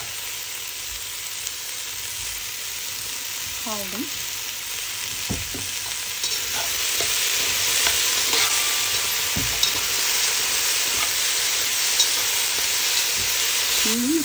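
Small potato pieces and carrots frying in a pan with salt while a soup is made, a steady loud sizzle with occasional stirring scrapes throughout, a voice briefly speaking over it.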